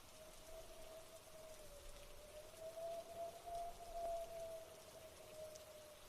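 Steady rain falling in a soft constant hiss, faint and even, with a low sustained tone running through it the whole time.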